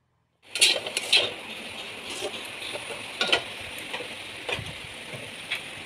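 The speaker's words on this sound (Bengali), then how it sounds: "এরপর আমি কেটে রাখা সমস্ত সবজি দিয়ে দেব, দিয়ে নাড়াচাড়া করে নেব" Chopped vegetables tipped into a pan holding a little boiling water for a vegetarian dish and stirred, with sharp metallic clinks and scrapes over a soft steady sizzle, close and fairly quiet, no talking.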